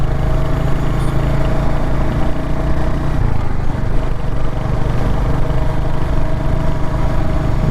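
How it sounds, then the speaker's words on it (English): Royal Enfield Hunter 350cc motorcycle engine pulling in second gear while riding, a steady loud low thumping drone with constant wind and road rush. "torquey engine, so it will pull in the second gear as well quite cleanly"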